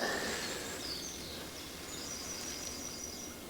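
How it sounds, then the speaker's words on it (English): Birds sing outdoors in Cromarty, Scotland, with several faint, high chirps and short trills drifting over a steady background hiss, with no one talking. "Look at that, it's just the sound of birds."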